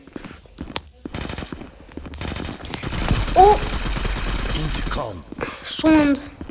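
An FN FAL rifle fires in the mobile shooter game Zula, a dense burst of rapid shots in the middle, surrounded by other game sounds and effects.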